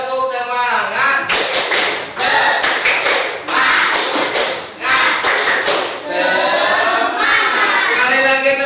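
A standing class in an Indonesian school performs tepuk semangat, loud rhythmic bursts of group clapping that alternate with children's chanted and shouted voices, close and energetic throughout.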